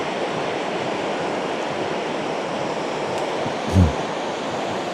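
Steady broadband rush of the Mochu river flowing at Punakha, a constant close water roar that fills the whole scene, with a brief low thump near the end.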